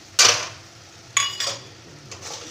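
A metal spoon clinks and scrapes against a pot while salt, black salt, pepper and chilli powder are stirred into a doi bora mixture, three sharp separate knocks with quieter scraping between them, close and clear with no talk.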